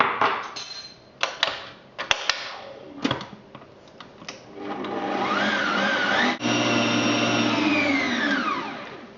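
An electric mixer whizzes egg and flour into cake batter for a Battenburg cake, starting with a few short bursts and clatters, then running as a loud, steady whir.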